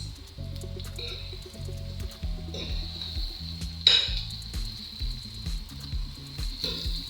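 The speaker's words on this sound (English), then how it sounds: "vegetables in here with our sausages, frying slowly" Sausages and vegetables sizzle softly in a pan with occasional stirring and clinks of utensils, a steady low frying hiss throughout.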